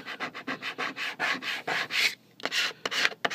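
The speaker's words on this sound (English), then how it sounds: "just kind of squeegee this down onto the" A squeegee pressed and dragged over a stick-on label on a stand, a series of short close scraping strokes with brief pauses between them.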